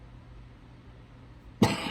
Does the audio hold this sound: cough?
yes